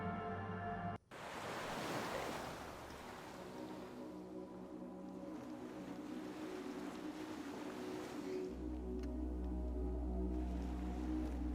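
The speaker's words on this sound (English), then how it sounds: "The skiff is swaying on the waves by the dock." Waves lap against a skiff by the dock in the video game Disco Elysium: a soft, continuous wash of water with a low rumble swelling near the end, heard alone without any voices.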